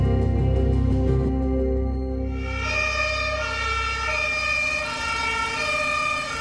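A fire engine siren wails loud and close, its rising and falling tones sustained throughout over the low rumble of the truck's engine, with no voices present.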